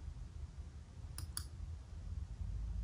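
A computer mouse clicks twice in quick succession while working in iMovie, faint crisp taps over a low steady room hum.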